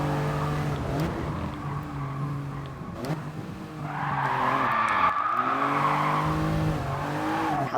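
Toyota GR Yaris in Gran Turismo Sport, its engine droning and shifting pitch before a handbrake skid brings a sustained tire squeal over the revving motor.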